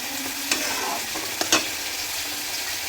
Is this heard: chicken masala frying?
yes